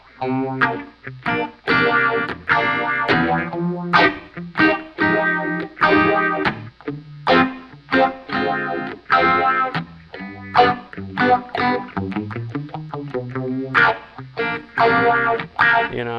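Electric guitar run through a phaser with light overdrive, playing a steady stream of chords and notes with a gentle swirling sweep, loud and up close with no talking.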